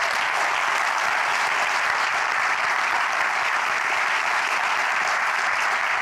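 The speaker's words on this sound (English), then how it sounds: "Can I ask you to join me in just giving them a thunderous round of applause?" A thunderous round of applause from the audience at a London startup demo day for the presenting ventures, with dense, even clapping held at full strength throughout without a break.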